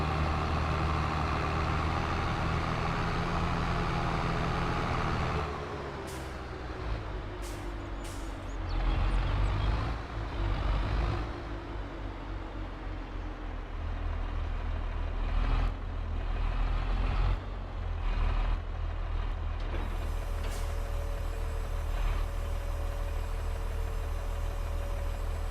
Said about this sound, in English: This is a different sounding tractor.